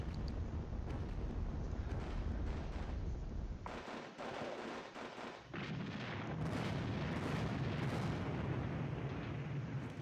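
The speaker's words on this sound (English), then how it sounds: "Lots of artillery coming in." Heavy artillery fire rumbles continuously in the Panzer Battles war game set in Normandy, with deep booms and dense crackling blasts, briefly dropping in intensity before resuming.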